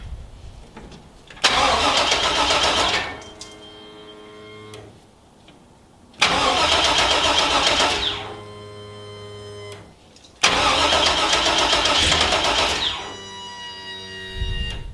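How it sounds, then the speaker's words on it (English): A 1966 Chevrolet Impala's fuel pump primes after the car sat for over seven years, in three whirring bursts of a few seconds each, each trailing off into a steady electric hum, with short quiet gaps between. "Here's the fuel pump."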